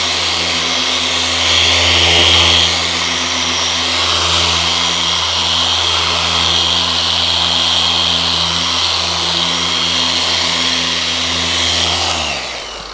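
A power sanding disc runs steadily on a Plexiglas window, a continuous loud whirring motor drone with a grinding hiss that holds for most of the duration before cutting off near the end; no one speaks.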